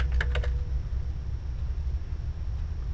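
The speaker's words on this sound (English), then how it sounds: "we're going to type in the word web page." Steady clicking of computer keyboard keys, a quick burst of close, crisp taps at the start over a constant low room hum, then only faint background noise.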